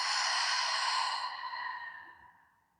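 A single long exhale out of the mouth during a yin yoga session, a soft breathy airy rush that starts steady and fades away over about two seconds, close and quiet with no talking.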